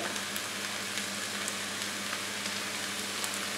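Chicken escalopes frying in a pan with vegetables, parsley, coriander and spices, giving a steady close sizzle throughout with light crackles and no talking.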